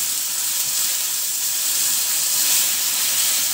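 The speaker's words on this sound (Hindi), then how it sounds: "पीसे हुए टमाटर इसमें डाल दिए हैं" Ground tomatoes hitting a hot garlic, cumin and onion tadka, a loud, close, continuous hissing sizzle that holds steady throughout without talk.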